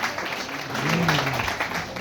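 An audience claps at a Mumbai teachers union best teacher award ceremony, a dense steady patter of hands with a faint voice murmuring underneath.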